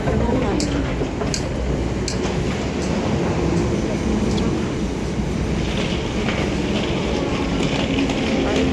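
A metro train runs on its rails in Hong Kong with a steady, loud rumble and faint clickety-clack throughout, while voices and station announcements carry on beneath.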